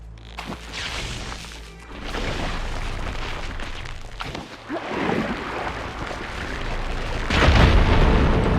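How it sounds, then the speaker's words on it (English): A fire gleam explodes to clear rubble in Horizon Forbidden West, heavy booming crashes and rumbling debris rolling on for several seconds, loud and close, with a second burst near the end. "Igniting that fire gleam should clear it."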